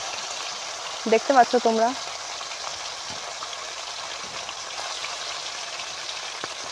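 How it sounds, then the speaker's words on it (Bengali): Fish fry in hot oil on a lit stove, a steady close sizzle and spatter that runs throughout, with a short spoken remark near the start. "মাছগুলো ভাজা হচ্ছে।"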